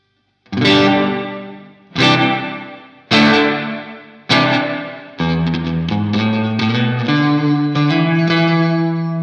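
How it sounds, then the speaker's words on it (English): Guitar played through the spring reverb setting of a Mad Professor Kosmos pedal: four loud strummed chords ring out and decay with a splashy, drippy tail, followed by a sustained run of picked notes, with no talking. "The spring reverb."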